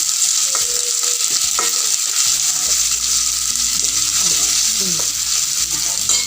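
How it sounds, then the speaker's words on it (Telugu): Mushrooms and coriander fried and stirred in a pan: loud, steady sizzling with repeated spatula scrapes and clinks against the metal, close up and without talk. "కొంచెం కొత్తిమీర వేసి తిప్పేసి లాస్ట్లో పుట్టగొడుగులు వేసుకుంటాం మనం."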